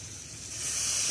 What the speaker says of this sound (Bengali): এবার সয়াবিনটা ভেজে নেব